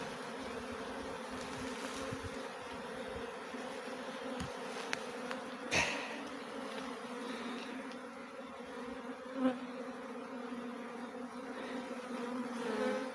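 A swarm of honey bees buzzing near hives, a steady droning hum from many insects with occasional louder passes close by, no voices.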